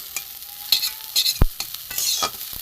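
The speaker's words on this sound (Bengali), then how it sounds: "ফুলটা একটু লাল করে ভেজে নেবো" Neem flowers fry in a pan, being stirred until reddish: a steady oily sizzle broken by sharp scraping clatters of the spoon against the pan, close up, with no talking.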